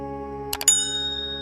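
A bright notification chime: a quick cluster of metallic clicks followed by a clear bell ding that rings on and slowly fades, over a soft steady hum.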